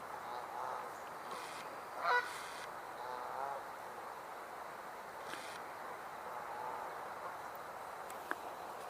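Geese outdoors give a few scattered honks, one clearer call standing out briefly amid a faint, steady ambient background.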